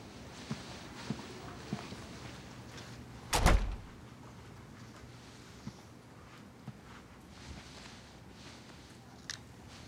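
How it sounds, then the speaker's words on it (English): A door closes once with a single sharp, fairly close thud, standing out briefly against a quiet indoor room with faint background rustle and soft knocks. "Close the door on the way out."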